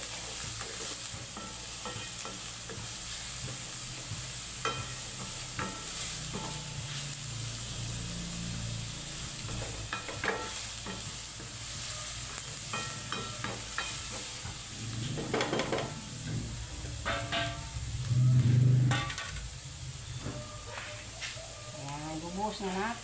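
Pork sisig ingredients sauté in a hot pan, a steady sizzle with a spatula stirring and scraping now and then, and a brief louder burst near the end.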